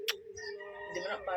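Pet lovebirds give short, close chirps and tweets over a brief span, while a person talks nearby.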